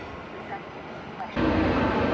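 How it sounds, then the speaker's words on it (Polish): A passenger-less service train rolls through a station, its rumble rising suddenly and holding loud and close after a quieter stretch of station ambience. "Pociąg bez pasażerów. Służbowy."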